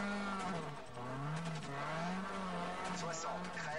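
Wheelspin from a rally car in the Colin McRae Dirt video game, a steady engine whine with shifting pitch and tyre scrabble running throughout, with a voice talking over it.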